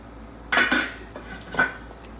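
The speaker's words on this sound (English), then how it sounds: "let me cover down the pot" A lid goes onto a cooking pot of Jamaican brown stew pork: two close, bright metallic clanks about a second apart, then quiet.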